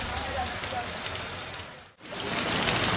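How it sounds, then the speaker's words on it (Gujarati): Heavy rain pours down over farmland in Gujarat in a dense, steady hiss, briefly dipping before returning just as loud. "ભારે વરસાદ ખાબક્યો"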